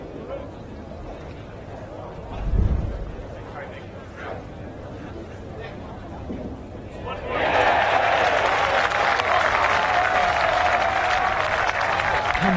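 Golf gallery applause breaks out at Royal Liverpool during The Championship, a broad sustained roar of clapping that swells suddenly and holds loud after a stretch of quieter ambience with light talk and a single low thump.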